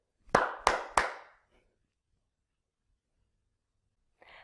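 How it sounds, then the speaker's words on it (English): Three sharp hand claps in quick, even succession, close and crisp, followed by silence. "I can clap my hands"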